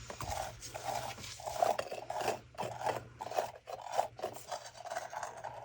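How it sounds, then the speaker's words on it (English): Sunken ashes are scraped out of a container while making a resin pet memorial tea light holder. Faint, close, repeated scraping strokes come in a loose rhythm over quiet background hum, with no talk. "Just scrape the ashes out there because they're all sunk to the bottom."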